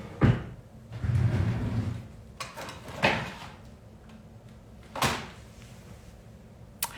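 Wooden drawers in a craft supply area are pulled open and pushed shut several times, giving sharp knocks and sliding rumbles at irregular intervals, close and fairly loud with no talking.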